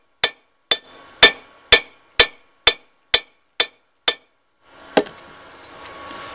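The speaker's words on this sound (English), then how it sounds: "So take the peen side of your hammer and a couple well-placed blows." Blacksmith striking tongs with the peen side of a hammer: about nine sharp ringing metal blows in a steady rhythm, then one more hit followed by a scraping rattle, close and loud with no talk.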